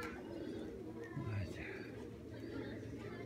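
Pigeons coo softly at close range in a loft, low burbling calls repeating under a man's faint speech and background chatter.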